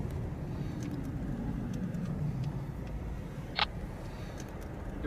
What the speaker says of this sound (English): A police officer drives into a seemingly crime-free residential area